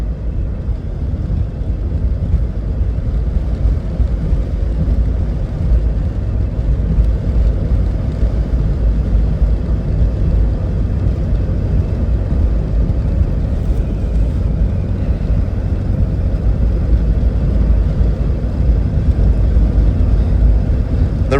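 An old Jeep cruising on an interstate highway, with a steady, loud roar of road and wind noise that stays constant throughout and carries no talk.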